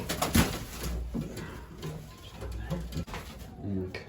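A young racing pigeon settling into a loft gives soft, low coos in short bursts, close by and fairly quiet, with someone talking gently over and between the calls.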